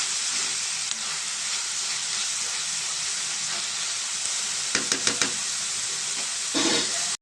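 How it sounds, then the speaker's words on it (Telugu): Onions fry in a pan with a dense, even sizzle that holds close and steady throughout, broken near the end by a few quick utensil clinks and a brief stir, with no voices. "ఉల్లిపాయలు ఫ్రై అయ్యాయి కదండి"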